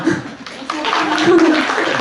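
Audience applause at a Korean-language club presentation contest: a dense, brief burst of clapping with voices and laughter mixed in, lasting about two seconds.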